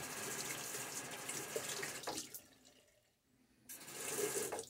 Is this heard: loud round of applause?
no